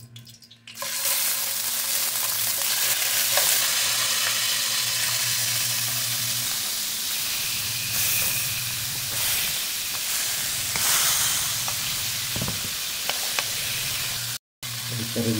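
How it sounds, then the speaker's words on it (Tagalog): Olive oil sizzles in a hot frying pan, a loud, continuous close-up hiss with crackles and occasional clatter, running steadily before a brief dropout near the end. "mainit na yung ating frying pan. Lagyan natin ng konting mantika guys. Olive oil."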